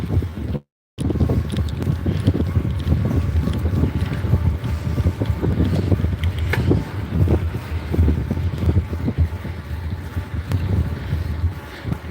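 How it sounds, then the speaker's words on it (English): Strong wind buffets the microphone aboard a moving boat, a loud, continuous rumbling roar with gusty fluctuations and no break except one brief dropout early on. "A lot of wind though"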